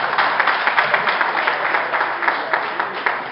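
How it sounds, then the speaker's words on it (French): Audience at a French reunion show applauds, with many hands clapping in a lively, slightly pulsing rhythm that carries on throughout. "Encore une main d'applaudissements"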